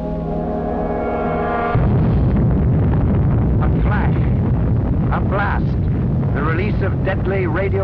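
An atomic bomb explosion over Hiroshima in archival film: after a brief musical passage, a loud, sustained roaring rumble bursts in and fills the rest of the clip, with a voice talking over it.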